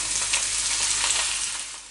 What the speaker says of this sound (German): Das Öl in der Pfanne erhitzen. Da kommt jetzt mein Spinat dazu.